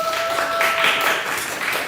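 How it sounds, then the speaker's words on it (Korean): A church youth congregation claps together at a Sunday worship service, a dense steady wash of applause lasting a couple of seconds with no voices over it. "박수 한번 주세요"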